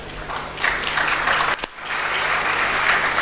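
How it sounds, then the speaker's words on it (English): Sustained applause from a large audience at a university convocation honoring degree recipients, dense and loud throughout with a brief dip midway, no voices standing out. "Please applaud the degree recipients."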